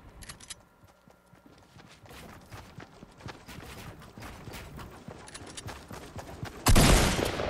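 Gunfire in the video game Fortnite rattles in rapid bursts among busy in-game movement sounds, growing louder toward the end with a sharp close blast.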